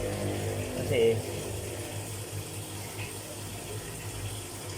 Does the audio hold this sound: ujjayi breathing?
no